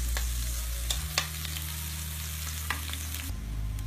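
Garlic and onion frying in a pan for a misua and siomai soup, a steady close sizzle with a few sharp clicks of stirring scattered throughout.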